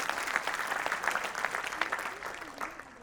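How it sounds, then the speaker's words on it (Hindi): Audience applause at a Hindi comedy poetry gathering (hasya kavi sammelan), a dense steady patter of many hands clapping for about three seconds, with a speaking voice faintly mixed in underneath. "देखिए आपने ताली बजाई भावुकता में आकर"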